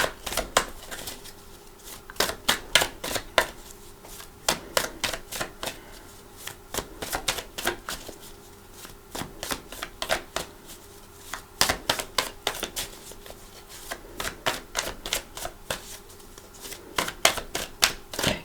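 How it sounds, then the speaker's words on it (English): Tarot card deck being shuffled, quick crisp riffling bursts repeating in clusters, close and fairly quiet, with no talking. "I'm going to shuffle for your cards."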